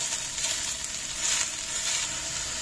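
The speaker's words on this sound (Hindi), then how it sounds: "अब हम डाल रहे हैं मशरूम और इसको फिर थोड़ा देर चलाते हैं।" Mushrooms and mixed vegetables stir-frying in a pan, a steady, fairly loud sizzle that runs unbroken and alone, with soft stirring scrapes.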